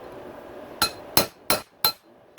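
Hammer strikes on a punch driving a bearing off a dirt bike steering stem, four sharp metallic clanks with a ringing edge spaced about a third of a second apart, close up, with a quieter tap at the end.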